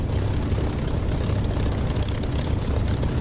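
A Spitfire's propeller engine in the DCS flight simulator throttles up for takeoff, a loud, steady, rumbling drone that fills the whole clip.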